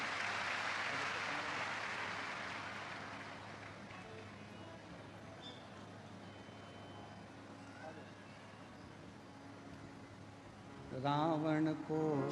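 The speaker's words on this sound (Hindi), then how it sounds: "जोरदार तालियां।" Audience clapping at a Shiv Mahapuran katha, a religious discourse gathering: a dense wash of applause that is loudest at the start and fades to a low, steady crowd murmur, with a voice rising briefly at the end.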